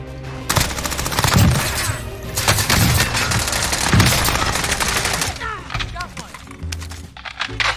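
Dense, continuous gunfire in Call of Duty Warzone, with rapid automatic bursts and overlapping shots packed closely together. Players talk over the loud, busy firefight.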